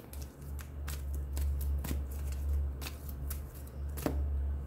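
Cards are handled and drawn from a deck, with several soft papery flicks and slides over a steady low hum, fairly close and with no talking.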